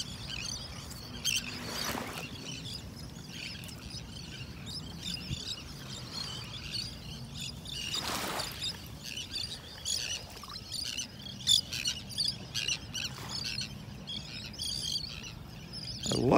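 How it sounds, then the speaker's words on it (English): Birds chirp and call repeatedly in the open air on a beach in North Naples, Florida, in the morning, a steady scatter of tweets over a soft, constant background wash. "I love the sound of the birds out here this morning."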